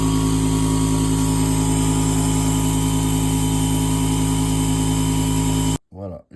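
A Piaggio MP3 scooter engine running steadily during a coolant purge, a loud, even mechanical drone held close for several seconds, then cut off as a voice begins speaking.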